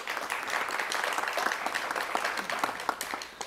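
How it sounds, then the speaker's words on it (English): A crowd claps steadily for a few seconds, a dense patter of applause at moderate distance. "So I think that deserves a round of applause here."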